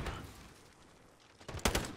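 Light machine gun firing in Modern Warfare Search and Destroy, faint distant shots trailing at first, then a closer loud burst of rapid gunfire near the end.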